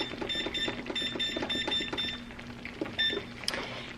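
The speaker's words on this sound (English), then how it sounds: "we're gonna turn the oven up to 425" An oven's digital control panel beeps repeatedly as the temperature is set to 425, a quick run of bright, evenly spaced electronic tones with a few final beeps over a steady kitchen hum.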